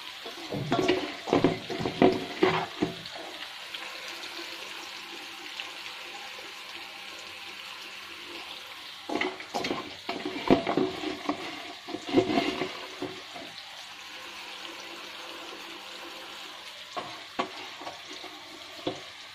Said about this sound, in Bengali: তো এখন পেঁয়াজ দিয়ে দিচ্ছি